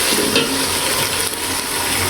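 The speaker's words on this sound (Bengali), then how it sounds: "লবণ দিয়ে আরেকটু ভালো করে ভেজে নেব" Spices fry loudly with garlic paste and salt for biryani, a dense, close sizzle with stirring scrapes running unbroken throughout.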